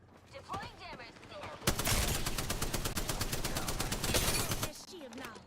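Rapid automatic gunfire in the video game Apex Legends bursts out loud and sustained for about three seconds, with quieter game sounds before and after.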